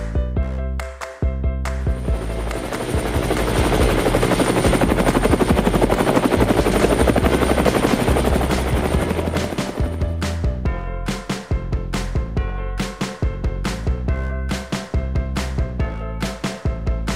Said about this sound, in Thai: เฮลิคอปเตอร์